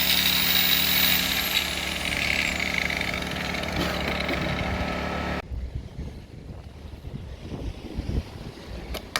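A Genergy Limited 2000i inverter generator runs with a steady, even hum and wind buffeting the microphone, then changes to a quieter, rougher engine drone partway through, with no talking.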